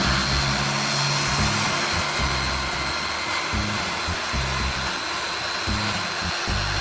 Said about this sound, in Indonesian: Biarkan bor listrik ini berputar untuk melakukan pemolesan.